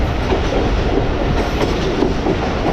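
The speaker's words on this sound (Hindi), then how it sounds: "8:36 पर हमारी ट्रेन अप्रोच बना रही है कानपुर जंक्शन रेलवे स्टेशन पर" The Pakistan Express rolling along the rails as it approaches a junction station, a loud, steady rumble with faint clickety-clack of wheels over joints, heard from on board.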